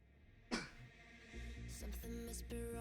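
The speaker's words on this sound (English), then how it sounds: "sneeze break" A single sharp sneeze bursts out near the start, followed by a busy stretch of layered music and game-like sounds.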